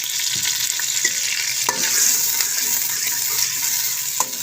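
Onions and green chillies frying in a pan for restaurant-style kadhi pakora, a steady broadband sizzle with occasional stirring clinks, close and continuous with no talking.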